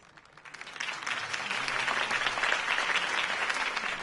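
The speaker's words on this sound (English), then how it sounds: "could have heard that applause" A crowd's applause swells quickly from quiet to a steady, dense clapping that continues at a moderate distance.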